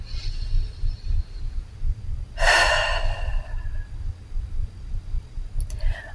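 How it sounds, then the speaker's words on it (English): A single deep breath, one long audible inhale or exhale lasting about a second, close and fairly loud against a low steady background hum, with a faint click near the end. "let's just take a moment and breathe"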